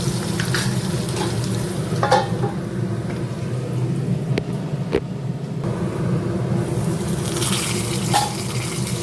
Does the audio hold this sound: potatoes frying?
yes